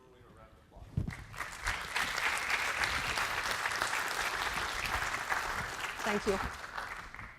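Audience applause for a keynote speaker at a healthcare summit, a dense sustained clapping swell that rises after a second and holds, with a voice briefly heard over it.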